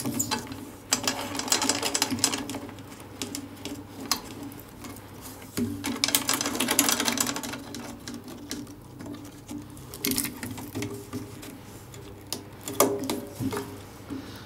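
Snare drum tension rods turned by hand with a drum key, heard as close, repeated ratcheting and rubbing mechanical clicks in uneven bursts over a low background hum, with no talking.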